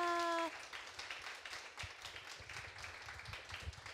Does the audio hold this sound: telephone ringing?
no